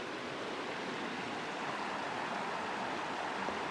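A river runs past bedrock outdoors in a steady, broadband rush, close and constant, with no voices over it.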